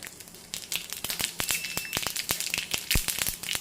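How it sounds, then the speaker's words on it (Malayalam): Half a teaspoon of mustard seeds splutters in a tablespoon of hot coconut oil in an iron pan, giving rapid, irregular sharp pops and crackles close by with no talking. "ദേ ഇപ്പോൾ 1/2 ടീസ്പൂൺ കടുകിട്ട് കൊടുക്കുന്നുണ്ട്."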